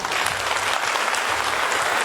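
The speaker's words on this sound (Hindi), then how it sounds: "ऐसे अपलाइन को भी एक शानदार ताली से स्वागत किया जाए" A brief, loud burst of dense audience clapping, close and continuous throughout, welcoming someone at a gathering.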